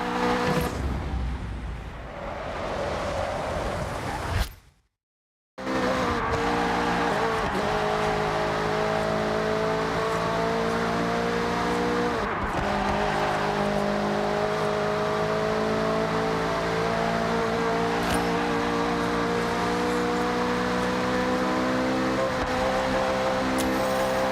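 Engines roar steadily in a Forza Horizon race set in Japan, a continuous loud, droning engine note with shifting pitch as the car accelerates. Brief dips come through a tunnel, and a short silent gap sits near the start.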